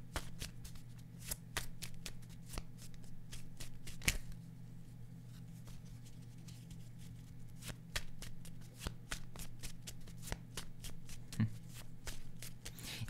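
Playing cards are shuffled by hand for fortune telling, giving a steady run of crisp, close riffling clicks over a low background hum with no talking.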